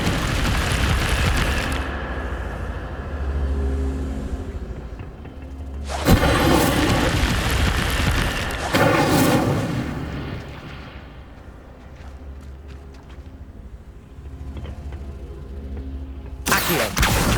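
Deep booming fire blasts from the Incendio spell in Hogwarts Legacy, with heavy rumbling bursts that swell and fade in several waves, loud and alone.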